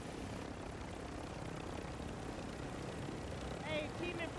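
Helicopter flying in a video game, a steady rotor and engine drone with chopping texture throughout, partly under players talking, with a few brief electronic tones near the end.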